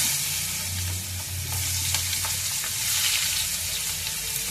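Onions frying in oil in a pan that already cooked fish, giving a continuous close, loud sizzle with a few faint clicks of utensils.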